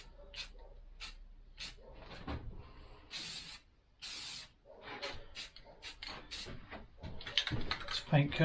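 Spray paint hissing from a can in a paint booth, laid down as a light coat on a floating cell phone stand in several short bursts, with someone talking between them.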